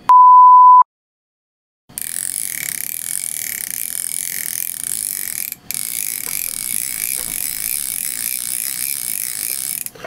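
A steady mechanical clicking whir runs continuously after a short beep, a Banax baitcasting fishing reel's tuned drag buzzing as line pulls out, with one brief pause.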